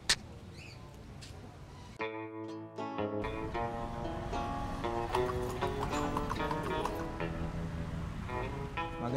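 Carriage horse's hooves clip-clop on the streets of Intramuros in steady, close rhythm, with busy surrounding noise and music-like tones throughout and a brief louder burst near the start.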